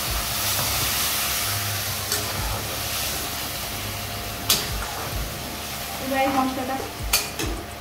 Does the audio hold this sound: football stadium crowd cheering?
no